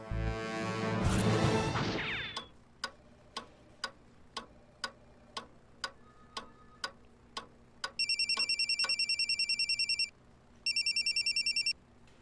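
A rushing sound gives way to a series of evenly spaced clicks, then an electronic telephone ring trills loudly in two bursts with a short pause between.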